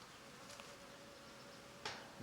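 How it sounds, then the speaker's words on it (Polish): Faint honeybee buzzing in the open air, a steady low drone with a couple of louder brief bursts as bees pass close. "Już pszczoły mi do tego zlatują."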